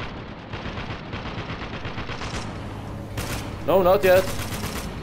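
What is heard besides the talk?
gunfire in the video game Spec Ops: The Line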